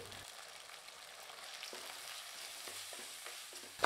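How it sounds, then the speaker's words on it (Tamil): Soft, continuous sizzling of sambar powder and asafoetida being sautéed in a pan, fairly quiet and steady, with a few faint stirring scrapes. "இதெல்லாம் நல்லா வதக்கி விட்டாச்சுங்க."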